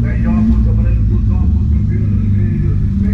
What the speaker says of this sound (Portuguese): Sempre tem que ter um carro novo passando